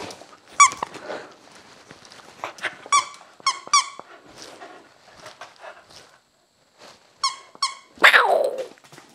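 A dog squeezes a squeaky raccoon plush toy, giving repeated high squeaks in short bursts with pauses in between, close and fairly loud, ending in one longer squeal.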